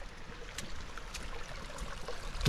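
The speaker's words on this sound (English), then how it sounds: "A lot of water running down the trail here." Soft, steady rush of running water close by as it flows down a hiking trail in Yosemite, a gentle trickling stream flowing continuously with no voices.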